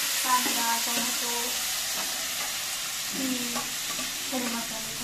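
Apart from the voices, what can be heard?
masala frying in hot oil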